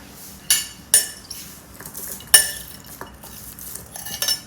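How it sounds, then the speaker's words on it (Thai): Minced pork larb tossed and mixed with metal utensils, a series of sharp clinks and scrapes against the bowl at uneven intervals, close and clear with no talking. "แล้วก็คลุกให้เข้ากันค่ะ"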